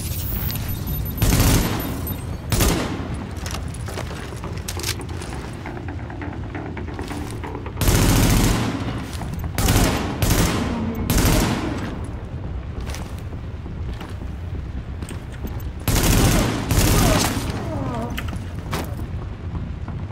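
Bursts of M4 rifle fire in Tom Clancy's The Division, loud close volleys of rapid shots recurring in several separate strings with short gaps between them.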